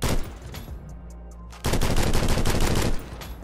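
Automatic SCAR rifle fire in the game Criminality rattles out in two loud, rapid bursts, the second longer and close, with no talking over it.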